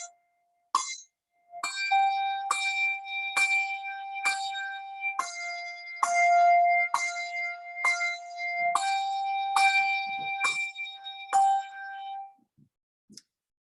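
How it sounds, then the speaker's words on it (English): Handbells ring out a slow melodic line, about a dozen clear, sustained strikes in a steady rhythm, each tone carrying into the next, close and alone, with no one talking. "Notice that when I have to play the bell again on the next beat, I don't need to stop the sound in between."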